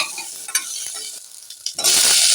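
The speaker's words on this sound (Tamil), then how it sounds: "அது இல்லாமல் கத்திரிக்காய் போட்டுக்கிறோம். எல்லாத்தையும் போட்டு வதக்கிக்கிறோம்." Brinjal and other vegetables sauté in a hot pan for a drumstick and mango sambar, stirred with a scraping utensil as a steady sizzle fills the clip and grows louder near the end.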